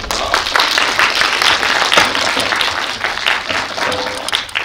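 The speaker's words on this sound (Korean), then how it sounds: "박수로 환영해 주시기 바랍니다." A Korean audience at a documentary screening and talk event claps warmly for the film's two main subjects, a loud, dense burst of applause with individual hand claps audible throughout, sustained and close.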